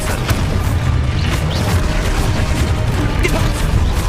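Expulso explosion spell cast in Hogwarts Legacy, a loud booming blast with crashing debris that fills the moment, dense rumbling combat noise throughout.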